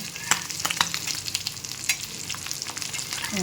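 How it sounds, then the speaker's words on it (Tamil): Kavala fish (sardines) coated in masala frying in a pan, a steady loud sizzle and crackle with sharp spatters and occasional scraping clinks as pieces are turned, no talk. "மீன் திருப்பி பார்க்கலாமா"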